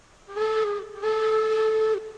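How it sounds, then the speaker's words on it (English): Steam locomotive whistle in the train game Railroads Online, two sustained harmonic blasts, a short one then a longer one, loud and close with a breathy hiss over it and no talk. "Good old whistle."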